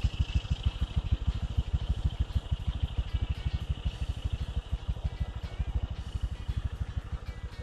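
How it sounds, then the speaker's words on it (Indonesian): A 2016 Honda Vario 150 scooter engine idling up close, a fast, even putter of regular pulses with a light mechanical clatter, steady and alone without talk. "Suara mesin dari Vario."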